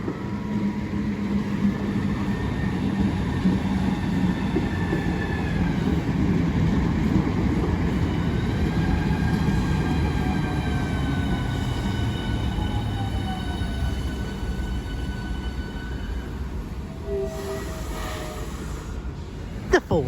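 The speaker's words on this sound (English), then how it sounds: "The 1432 South Eastern service from St Pancras International to Ramsgate. It's barely on the move and it was sparking." Southeastern passenger service from St Pancras International to Ramsgate rolls slowly through Deal railway station, a loud sustained rumble of wheels with squealing, whining tones from the train, and a sharp burst near the end.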